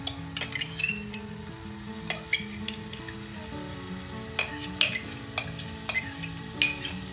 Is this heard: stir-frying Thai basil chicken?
yes